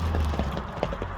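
A horse runs on a road near Kara-Suu, its hooves sounding as a quick run of clip-clop beats, faint and slightly distant, with no voices over them.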